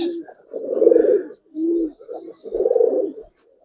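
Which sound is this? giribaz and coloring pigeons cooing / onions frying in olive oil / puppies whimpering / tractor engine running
giribaz and coloring pigeons cooing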